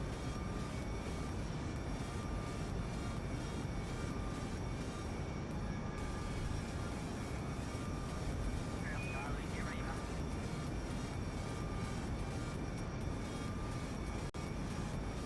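Aircraft flying around Kerbin in Kerbal Space Program, a steady, broad engine roar with faint high whines, constant and unbroken.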